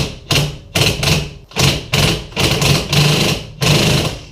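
A drill drives a rear subframe bushing into a Nissan S13, giving about seven loud, close bursts of hammering clatter, each roughly half a second long, with short gaps between them and no talking.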